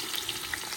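Onions sizzle in a hot pan as mutton is cooked for a festive meal, a steady soft crackle with faint pops throughout, brief and fairly quiet with no voices.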